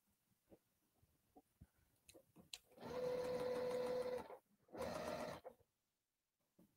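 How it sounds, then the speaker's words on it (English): A sewing machine stitches together fabric patchwork pieces for a baby-sized pumpkin, with two steady whirring bursts, a longer run followed by a shorter one, and soft handling clicks before them. "And now I'm going to sew these two."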